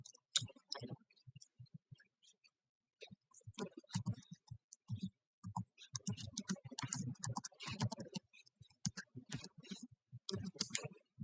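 Someone types a password on a computer keyboard in quick, uneven bursts of light clicking keystrokes, heard close up with brief pauses and no speech.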